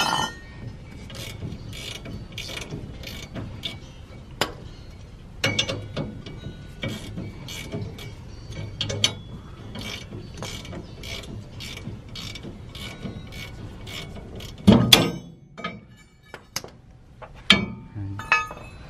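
A ratchet works loose bolts while a Toyota Mini is being lowered, giving rapid repeated clicking bursts with metallic clinks and a louder clatter near the end, close and clear.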